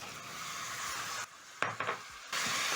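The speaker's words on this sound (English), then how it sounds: "So I'm going to add in tomatoes," Tomatoes tossed into a hot pot of beef liver stew with browned fond on the bottom, a close sizzle that drops out briefly, then a couple of sharp stirring clatters before the frying hiss returns.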